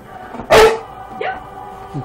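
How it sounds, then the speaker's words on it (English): A pit bull lets out a single loud, sharp bark at close range, then makes a couple of softer yips and whines as it tries to vocalize, in a quiet indoor room. "He was trying to get the bark out"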